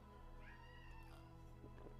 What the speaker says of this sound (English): Apologies for the cat in the background.